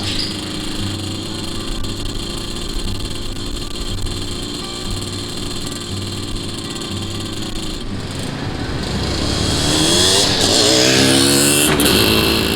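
A 1976 Yamaha RX 125 twin two-stroke motorcycle engine runs at a steady, even idle, then revs rise and climb loudly toward the end, with no talking over it.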